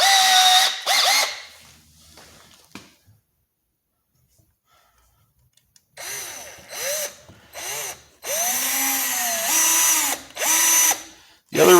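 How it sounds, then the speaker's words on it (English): A hand drill whirs in several short, close bursts drilling through tape into a Winchester Model 120 12-gauge shotgun barrel, its motor pitch rising and falling, with a long quiet pause in the middle. "why I'm drilling into the tape, is it actually kind of helps keep this drill bit from wanting to walk"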